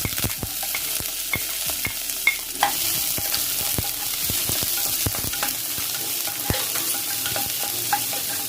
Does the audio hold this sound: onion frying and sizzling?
yes